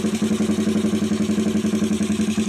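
A motorcycle engine idles close by in a steady, even pulsing rhythm, loud and alone without any talk.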